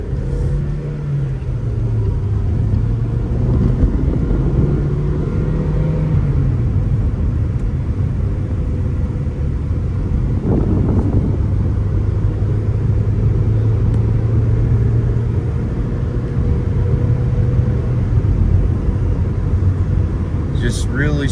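A 1996 Honda Orthia with a B18 engine and factory manual gearbox driving a quick lap, a steady close engine drone rising and falling with the gears over road rumble, with someone talking throughout.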